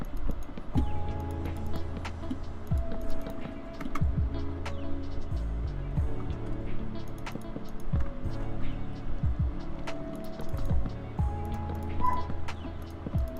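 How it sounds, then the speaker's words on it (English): Dog barking in Minecraft, scattered short yips and barks over a steady low game ambience, fairly faint and intermittent, with no talk. "Dog moment."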